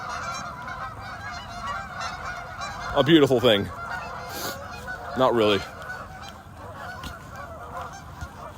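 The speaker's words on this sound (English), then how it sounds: "We got the geese honking." A flock of geese in Canada honks in two loud bursts of overlapping calls, with quieter honking and a voice speaking briefly in between.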